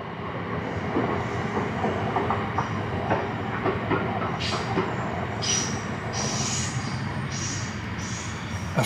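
A train rumbles steadily past through a railway tunnel with rhythmic clattering and bursts of high hissing and squealing, loud and enclosed, with no voices.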